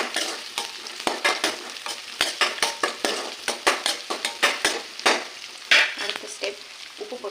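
Onions fry in a pan for a chicken fry, sizzling steadily while a utensil scrapes and stirs in quick rhythmic strokes, close and clear.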